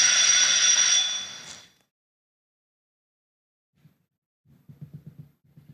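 A bell rings for time up in a junior high school quiz competition: a bright, loud ring that fades out after a second or two, then a pause before soft speech resumes.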